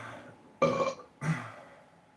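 Two loud burps from a person, the first about 0.6 s long and the second shorter, close to the mic with nothing else heard.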